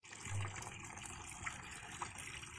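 Rainwater pours steadily into a washing machine, a faint continuous gushing and trickling with no other sounds.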